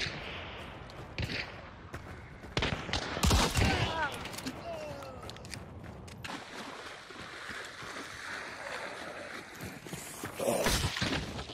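Gunfire in the Hunt: Showdown video game comes as sharp, broadband shots scattered through the scene, some loud and others more distant, mixed with a player's voice.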